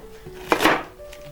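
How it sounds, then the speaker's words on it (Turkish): A knife chops through cabbage on a board, with one sharp cut followed by a longer crunching slice, close and fairly loud. "bir tane lahanayı kessen yeter hiç. şöyle şu biçimde şu biçimde doğruyoruz bunları"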